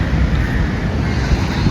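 Sea surf rolling onto the beach at Dhareshwara, a steady broadband wash of waves mixed with wind buffeting the microphone, loud and continuous with no voices.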